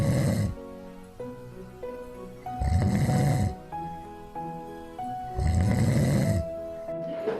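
Two police officers asleep in a patrol car snore loudly in Tacna, with three long rasping inhaled snores at a slow steady rhythm, close up. Whistling tonal exhales sound in between.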